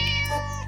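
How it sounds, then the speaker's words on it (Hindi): A cartoon cat in a Hindi children's story lets out a single short, tonal meow, close and clear with no talk over it. "अरे बाप रे, एक बिल्ली!"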